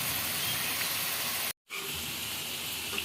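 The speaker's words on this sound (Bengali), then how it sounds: "আর ক্রিস্পি যেন হয় সে কারণে একটু অল্প আঁচে রেখেই ফ্রেঞ্চ ফ্রাই ভাজতে হয়" French fries frying slowly in oil over low heat, a dense, even hiss of bubbling oil that drops out briefly midway before resuming, close and steady.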